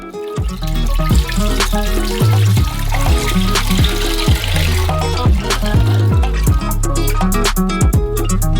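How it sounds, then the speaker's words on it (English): Freshly squeezed grape juice pours into a saucepan, a continuous liquid stream and trickle heard beneath loud rhythmic background music with a thumping beat. "We're going to pour this into the saucepan."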